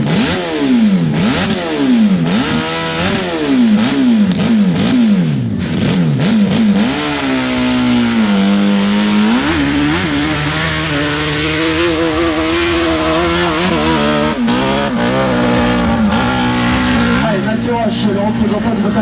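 An off-road dirt bike revs hard on a steep hill climb, its engine rising and falling in repeated bursts and then holding a high, strained note, loud and close throughout, with an announcer commenting over it.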